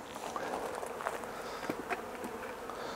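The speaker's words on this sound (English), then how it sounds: "I'd like to have seen a lot more bees feeding on the syrup." Honey bees buzzing at a hive while feeding on syrup, a steady close insect drone with brief louder passes of individual bees, alone without voices.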